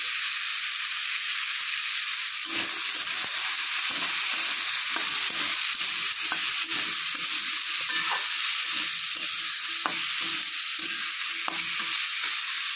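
Potatoes frying with salt and turmeric in a pan give a loud, constant high hiss of sizzling oil, with soft irregular scraping knocks from stirring underneath, close and without talk.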